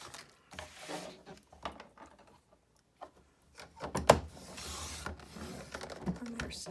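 Intermittent scraping slides and clicks of a paper trimmer blade cutting 4-inch strips of paper, in several separate strokes with pauses, close and moderately loud, with a sharp snap near the middle.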